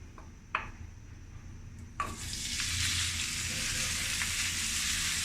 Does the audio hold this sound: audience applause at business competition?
no